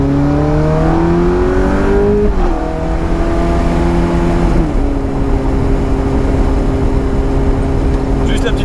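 A Ferrari F430 with a 490-horsepower engine accelerates with a loud, continuous engine note, its pitch climbing through gear changes near two and a half and four and a half seconds before holding steady. Cabin noise and faint talk sit beneath it.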